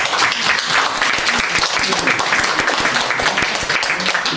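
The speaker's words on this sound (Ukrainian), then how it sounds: "аплодисменти для колишнього актора, це як бальзам на душу" Audience applause at a talk by a former actor on Shevchenko's Kobzar, a steady dense wash of clapping from a crowd that fills the whole stretch without a break.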